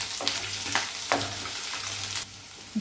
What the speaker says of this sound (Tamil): ஒரு பெரிய வெங்காயம், இதையும் நம்ம நல்லா வதக்கிடலாம்